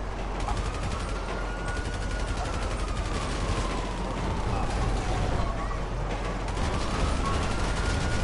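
Gunfire in the video game GTA V during a train chase, a dense crackle of rapid shots running the whole time over a steady engine rumble, with players talking over it.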